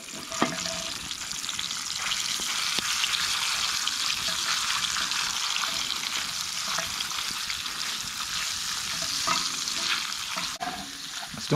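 Chorizo fries in a pan at a fall camping breakfast, a constant close sizzle with scattered scraping and stirring as the meat is broken into chunks, and no one speaks.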